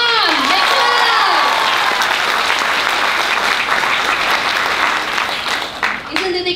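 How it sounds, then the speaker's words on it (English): Graduates at a Singapore graduation ceremony break into a loud, sustained round of applause with cheering voices and whoops mixed in, fading slightly toward the end. "I think you deserve bigger round of applause."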